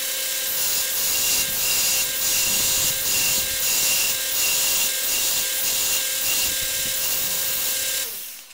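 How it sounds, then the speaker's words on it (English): A grinder works down a metal part for a forced-air forge burner, a steady, loud abrasive whine with rhythmic pulsing as the piece is pressed and rocked against the wheel, running continuously for about eight seconds before cutting off. "I'm gonna have to take this to the grinder probably and make it a little slimmer."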